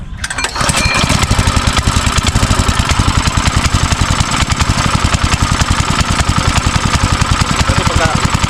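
A small farm engine starts up and runs in a rapid, steady putter, loud and close, with a slight roughness from a dirty carburetor and stuck float.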